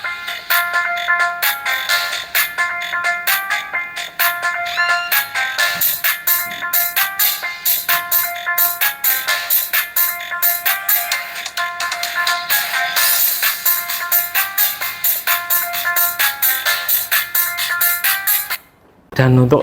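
A small ACR tweeter driver plays bright, high-pitched test music with quick repeated notes, loud and continuous for most of the clip, with a short dropout near the end.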